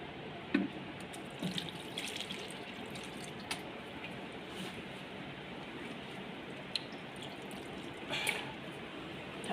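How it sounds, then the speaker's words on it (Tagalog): Water runs steadily from a tap into a sink or container at an OFW's home in Bahrain, a soft continuous wash with faint clinks and drips now and then, heard alone without voices. "maglalagay ng tubig."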